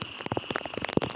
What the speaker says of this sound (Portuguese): Olha aqui, tá chovendo muito aqui.